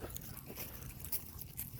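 An American Bully dog chews on something it picked up during a walk, giving soft, irregular crunching and biting clicks close by, with outdoor background noise and no talk.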